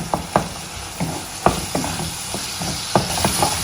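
Tomatoes being mashed and stirred while they fry in a pan for green chilli thecha, with a steady sizzle broken by repeated sharp scraping and tapping strokes of a spoon against the pan, close up and with no voices.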